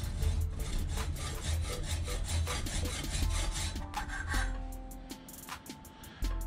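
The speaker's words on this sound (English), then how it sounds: "you take your hacksaw and you make simple cuts in between the threads" A hacksaw cuts between the threads of a bolt held in a vise, making steady, rhythmic rasping back-and-forth strokes up close that slow and stop toward the end.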